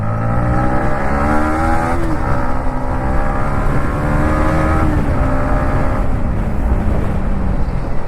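A Yamaha MT15 naked motorcycle revs hard as it accelerates, its engine note climbing through gears in a loud, continuous roar heard up close without talk.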